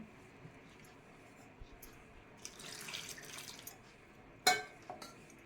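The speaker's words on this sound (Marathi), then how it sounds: "पाणी भरपूर घालून घ्यायचं" Plenty of water poured into wheat bran while making wheat kurdai, a faint trickle and splash with a sharper splash near the end, quiet overall.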